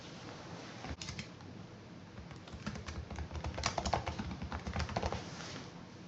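Rapid clicking keystrokes on a computer keyboard as auction details like a title, description and starting price are entered, steady close typing with no talking.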